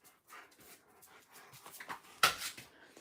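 A dog pants and whimpers softly close by indoors, giving quick breathy puffs and small whines and then one sharper yelp-like burst near the end.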